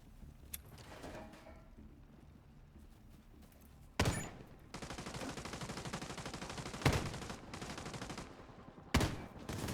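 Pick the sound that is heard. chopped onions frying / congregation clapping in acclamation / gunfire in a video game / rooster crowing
gunfire in a video game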